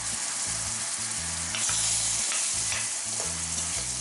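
Honey-roasted carrots with lemon juice stirred in a hot pan, a steady close sizzle broken by scraping stirs, with a low rhythmic tonal hum running underneath.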